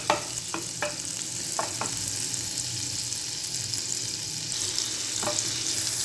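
Chicken pieces cooking in plenty of butter in a pan give a steady, close sizzle that runs throughout, with a few short stirring scrapes near the start and one more toward the end.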